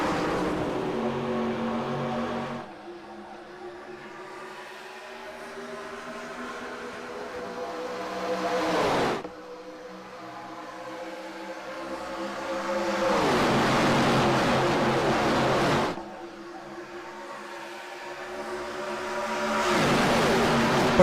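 Super Late Model race cars roar around an asphalt oval, with engine packs swelling loudly as they pass close by and then fading, the passes repeating every few seconds with no one speaking.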